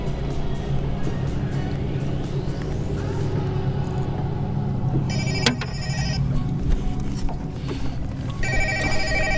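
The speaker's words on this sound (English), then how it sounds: "Let me answer my phone here." A mobile phone ringtone rings outdoors during winter crappie fishing, repeating electronic tones heard in bursts over a constant low engine-like rumble, with no talking.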